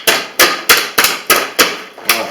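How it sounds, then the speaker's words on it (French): A hammer bangs on a frozen water bottle fresh out of the freezer, seven loud, hard, close blows at a steady, even rhythm with no talking. "avec un marteau, vous tapez dessus"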